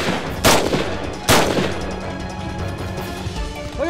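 Army rifle fire during a concentrated shooting drill at an outdoor range: two sharp, loud gunshot cracks about a second apart, each with a rolling echo that fades into the open air.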